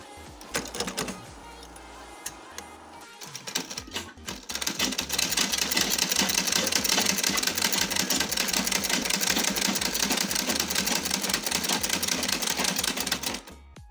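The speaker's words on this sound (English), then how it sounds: "So I'm going to be sewing it this way." A sewing machine stitches through layered satin for a ball gown, starting in short bursts and then running in a fast, steady, loud mechanical rhythm before stopping.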